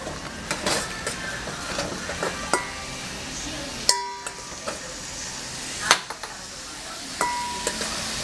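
Second batch of shrimp frying in a pan on a kitchen stove: a steady sizzling hiss broken by sharp clinks and scrapes of a utensil against the pan, close and fairly loud throughout.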